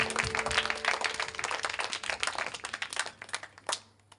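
An audience at a church mass applauds, a dense burst of many hands clapping that gradually thins and fades out after a few seconds.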